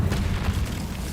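A burst of fire as the Incendio spell is cast in Hogwarts Legacy, a low rumbling whoosh that holds steady for about a second with no voices over it.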